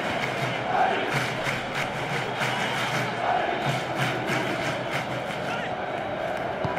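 Stadium crowd in the PES 2017 football game, Real Madrid versus Barcelona in the Spanish Super Cup final: a continuous roar of cheering and chanting at moderate level, steady for several seconds with no clear commentary over it.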